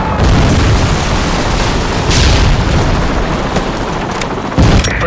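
Explosion from a predator missile strike in the video game Modern Warfare 3, heard as a continuous loud, dense roar of blasts and rumbling debris throughout, with a sharper burst near the end.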